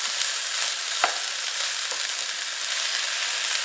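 Shredded cabbage frying in a hot pan gives a steady, close sizzle with constant crackling and a few faint stirring clicks, no talking.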